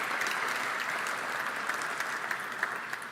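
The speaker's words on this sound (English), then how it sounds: "It's unusual for a regulator to get applause" An audience at an economic forum applauds a regulator, a dense, even clapping that holds steady at a moderate distance for the whole stretch, without cheering or talk.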